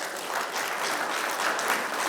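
An audience applauds at a talk about the California drought, a brief, moderately distant patter of clapping hands with no voices over it.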